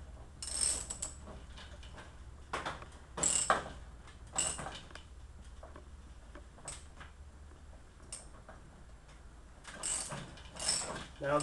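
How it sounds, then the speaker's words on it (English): A wrench tightens a 15/16 inch self-locking nylon nut on an aircraft main landing gear. Close, quiet ratcheting clicks come in short bursts separated by pauses, with no talking. "And get my wrench and start tightening it down."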